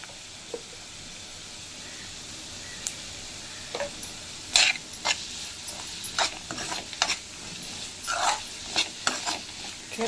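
Onions sautéing in a pan with salt and turmeric, a quiet sizzle under repeated sharp scrapes and taps of a spatula stirring at close range, no talk.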